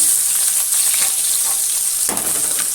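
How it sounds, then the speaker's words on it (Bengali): Steady, dense sizzling of katla fish frying in hot oil, close and continuous, with a soft clatter near the end. "আমার মাছটা ভাজা হয়ে গেছে, আমি তুলে নিচ্ছি"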